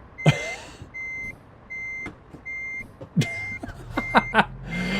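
A truck's reversing beeper in American Truck Simulator sounds four steady, evenly spaced tones, then resumes as the engine rumbles up, with a few thuds and air-brake hisses.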